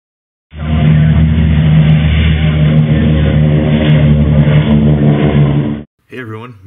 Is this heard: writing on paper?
no